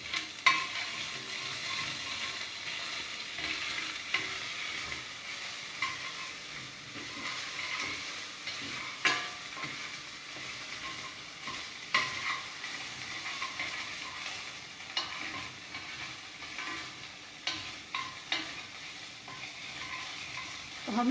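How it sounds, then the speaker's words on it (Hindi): Ginger garlic paste being sautéed in a pan, a continuous sizzle and hiss with occasional scrapes and knocks of a stirring spoon, moderately loud and close, lasting throughout. "2 टीस्पून के अंदाजे से इसमें अदरक लहसुन का पेस्ट डाल दिया है। इसको भून लीजिए अच्छे से।"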